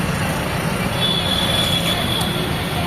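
A metro train rumbles past close by near a market in Mamura, Noida, a dense steady roar of wheels on rails with a faint metallic whine above it.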